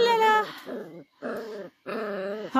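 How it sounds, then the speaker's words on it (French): A Shikoku Ken mother dog plays roughly with her puppy, giving close, loud whiny growls and yelping whimpers in three bursts separated by brief pauses. "Hop, maman Ryuka qui joue avec son petit"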